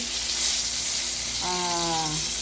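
Steady, loud sizzling of bangus (milkfish) steak frying in hot oil over low heat fills the clip, with a brief tonal hum or voice-like sound partway through.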